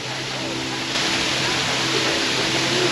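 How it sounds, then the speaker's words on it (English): A waterfall at the top of Lover's Leap roars as a steady, loud, broad rush of falling water, constant throughout with a slight swell partway, and a person's voice faintly present. "gorgeous waterfall right here at the very top"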